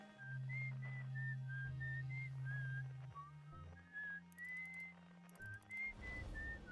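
Whistled melody in the video game Outer Wilds, a soft, clear tune of many gliding notes over low sustained background music, fairly quiet and steady.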